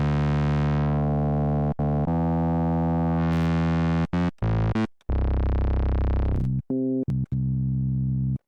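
A steady synthesizer tone with phase distortion crossfading between two settings. It holds long sustained stretches, then cuts sharply into short choppy gaps and level changes.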